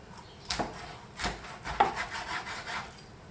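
A knife cuts through a mackerel on a board, giving a few separate close, dry cutting and rubbing strokes at an irregular pace with short pauses between them.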